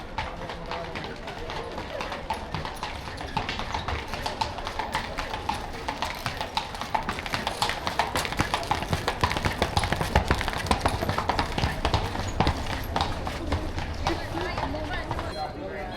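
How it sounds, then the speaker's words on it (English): Horses' hooves clip-clop steadily through a busy town square in Poland, the rhythmic hoofbeats drawing nearer over crowd noise and people talking. "I hear horses. Yeah, there's horses coming."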